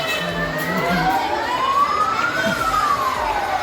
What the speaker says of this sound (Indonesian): sedang dibawa menuju ke ceritanya mobil pemadam kebakaran nih, untuk menuju lokasi kebakaran